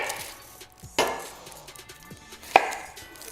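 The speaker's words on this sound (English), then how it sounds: "I'm going to peel the onion by taking off both ends." A knife chops the ends off a Spanish onion on a cutting board, giving two sharp, close thunks about a second and a half apart with quiet handling between.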